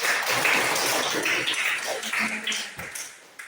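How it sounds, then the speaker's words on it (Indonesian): A classroom of students claps for a classmate, a brief scattered burst of hand claps that thins out and fades over a few seconds, close and fairly loud. "tepuk tangan dulu untuk teman kalian Cicil"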